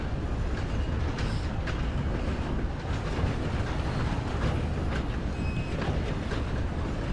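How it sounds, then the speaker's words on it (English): A train rolling through the world of the video game Red Dead Online, a steady, loud rumble with rattling wagon noise that holds at a constant level for the whole stretch. "I think that train is loud."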